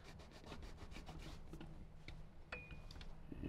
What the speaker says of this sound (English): we're going to grab a microfiber and just go ahead and wipe that area real quick